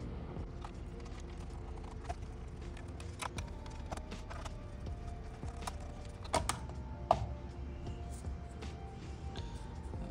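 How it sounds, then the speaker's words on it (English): Stock CPU cooler being removed from an HP Omen 30L desktop PC, heard as quiet scattered clicks, light metallic taps and small handling knocks over a steady low background hum. "let me go ahead and take off this CPU cooler"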